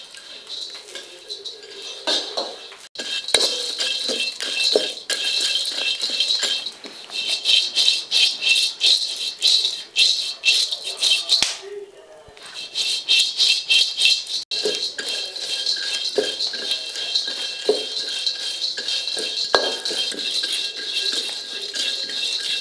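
Sun-dried, homegrown melon seeds are stir-fried over low heat in a pan, producing a dense, rapid rattle and patter that continues with only a brief pause midway.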